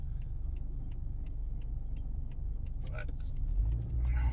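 Inside a moving car, a steady low engine and road rumble carries on continuously while a soft rhythmic ticking runs over it, and a voice speaks briefly near the end.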